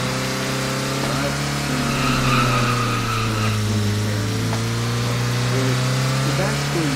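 A McLaren car driving in a Roblox game, with a steady engine hum and a whining tone rising and falling. A voice talks over the engine throughout.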